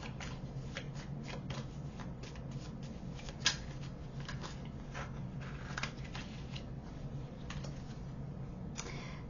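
Tarot cards being shuffled by hand in a quiet room, a steady soft riffling and pattering of card edges with one sharper snap partway through, close and fairly quiet with no talking.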